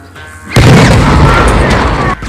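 A dynamite blast goes off with a loud, sudden boom that roars on as a sustained rumble for nearly two seconds before cutting off, with no voices over it.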